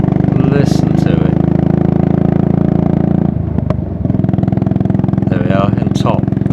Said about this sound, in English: That fat engine sound is wonderful.